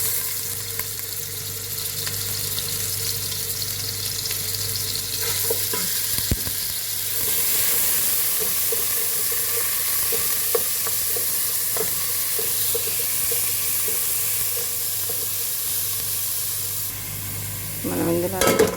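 Two tablespoons of oil with ginger garlic paste fry in a pan with a steady, close hiss and sizzle. Occasional spoon scrapes and small clatters are heard, plus a brief louder rattle near the end.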